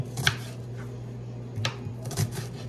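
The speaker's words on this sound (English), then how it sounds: "So we're gonna get this onion cut up." A knife chopping an onion on a cutting board, a few sparse, fairly quiet thuds and clicks spaced across the moment against a low steady hum.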